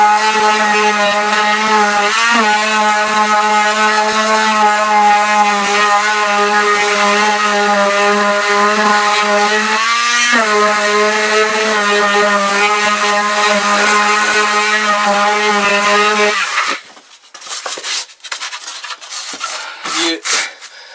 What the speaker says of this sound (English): oscillating sander with the 80 grit sandpaper